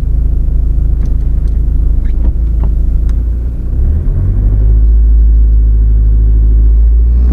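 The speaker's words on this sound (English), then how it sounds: "So this is how the engine sounds idling." A used 2014 Mahindra Scorpio SUV engine idles with a loud, steady low rumble, smooth and continuous, with a brief dip midway before settling back to an even drone.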